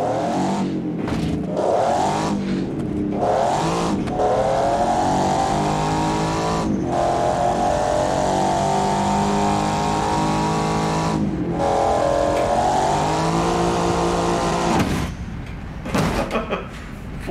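A dragster engine at half throttle in the BeamNG Drive driving game roars loudly and steadily, its pitch climbing and holding with a few brief drops where the throttle lifts, ending in sputtering pops.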